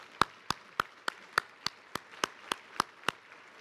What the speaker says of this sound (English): I think we should give our county leadership a big round of applause.